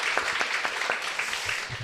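A church congregation claps briefly in thanks for the worship team, a short scattered patter of hands that stays moderately loud, with a faint voice in the background.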